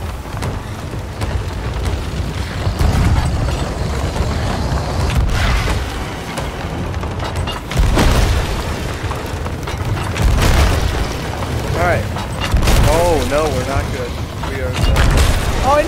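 Ship cannons fire in a pirate video game, repeated heavy booms and crackling bursts rolling over one another at close range, with excited voices shouting over the barrage.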